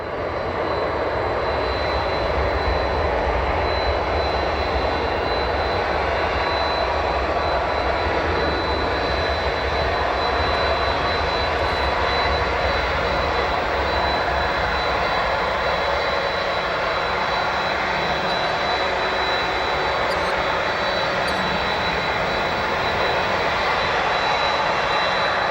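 A jet airliner landing at Chicago O'Hare Airport gives a loud, steady roar of engine and rushing air that holds evenly for the whole stretch, with no voices.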